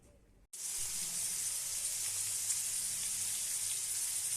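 Onion, tomato and chili hit hot oil in a wok, bursting into a loud, steady sizzle after a brief quiet moment, the hiss holding evenly close to the pan.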